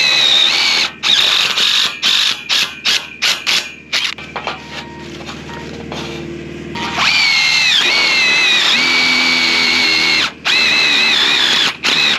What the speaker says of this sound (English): we put a self-tapper in there to hold them